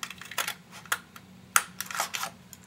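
A paper punch cuts out a flower shape with a few close, sharp clicks and snaps amid light paper handling.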